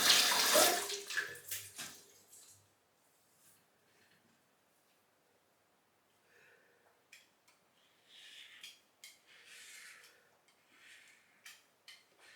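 Tap water runs in short bursts while shaving soap is rinsed off a freshly shaved head, with a louder splashing gush at the start, then quiet, then intermittent trickles and splashes nearby.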